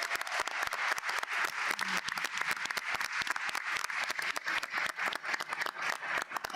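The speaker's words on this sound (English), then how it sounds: "if you can join me with a big round of applause for Destiny Mohammed." An audience at a San Francisco Arts Commission town hall claps steadily for several seconds, a dense, even patter of applause heard from some distance.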